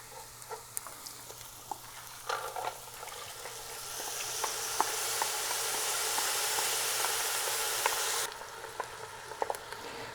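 Lentils and bulgur sautéing with turmeric in a pan, a soft steady sizzle that swells for several seconds, then drops away, leaving faint taps and stirring scrapes.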